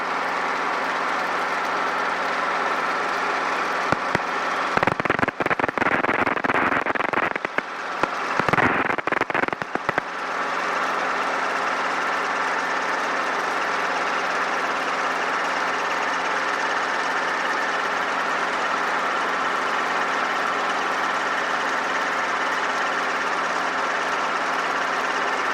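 A Robinson R22 helicopter gathers speed in flight, heard from inside the cabin. Its engine and rotor make a loud, steady drone throughout, with a brief rougher, fluttering stretch near the start.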